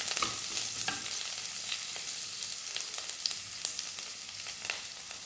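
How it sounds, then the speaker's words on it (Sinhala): Shallots and green chillies fry with canned salmon as they are stirred in a pan: a dense, close, steady hiss of frying with scattered crackles and spatula scrapes throughout, no voices. "රටලූණු, අමු මිරිස් එකතු කරලා හොඳට කලවම් කරගමු."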